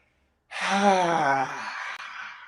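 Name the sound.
deep exhale in a breathing exercise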